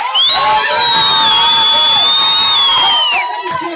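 A crowd lets out a loud, sustained high-pitched cheer that holds for about three seconds before fading into scattered voices.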